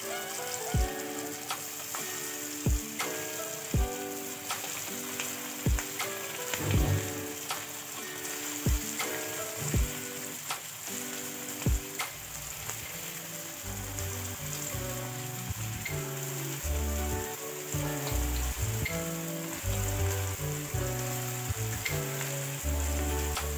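Babycorn frying in a pan for a black pepper snack, giving a steady sizzle with sharp regular ticks or taps, with rhythmic music playing throughout.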